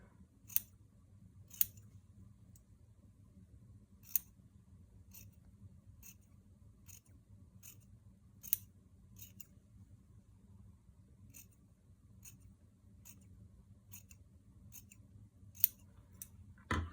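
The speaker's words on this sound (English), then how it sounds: "whether you're using a zigzag scissors or straight scissors, you're just cutting in little snippets to create the mane." Scissors snip paper into small strips for a reindeer mane on a holiday craft, making quiet, crisp, irregular cuts spread across a near-silent room.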